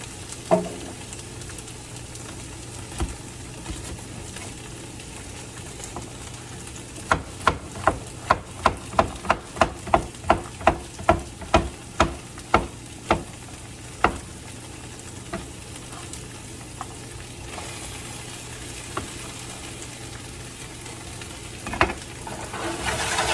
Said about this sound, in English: And then we're just gonna cook this until the squash becomes soft.